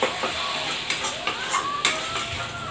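Masala for an arbi and mustard curry sizzles steadily in oil while a spoon scrapes and stirs the pan in repeated strokes, the frying hiss loud and continuous up close.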